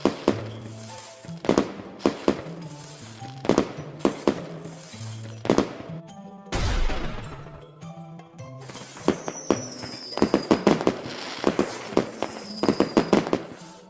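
Firecrackers burst in a rapid, uneven string of sharp pops and bangs, with a bigger blast midway followed by more crackling.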